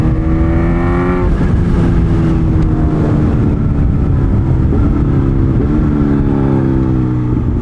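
A Kawasaki Z H2 motorcycle accelerates hard, its engine note climbing in rising sweeps through several gear changes, loud and close with heavy wind roar throughout and no voices.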